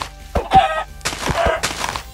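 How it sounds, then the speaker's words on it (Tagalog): Chickens in the video game Minecraft cluck in short, close bursts, several quick calls and soft thuds overlapping over a couple of seconds, with no talking. "Ang daming manok"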